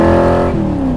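A Superformance Cobra R with a Roush 427 V8 making 550 hp revs loud and close, a deep harmonic engine roar whose pitch sags slightly as the revs drop.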